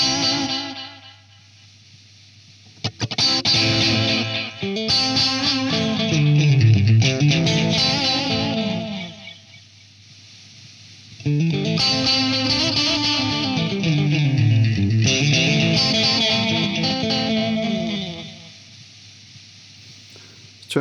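A guitar played through a Binson Echorec echo effect with the echo volume raised gives long, dense repeating echoes that swell and smear across two sustained phrases, loud and alone with gaps between.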